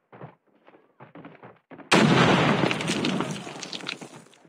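Gunfire in the mobile shooter Call of Duty Mobile: a sudden loud, dense burst of shots that holds for a couple of seconds and fades, after brief speech-like sounds.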